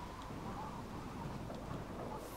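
Steady rain hisses in the Minecraft Tekkit modded game world, a dense, even wash of noise with a low rumble underneath throughout.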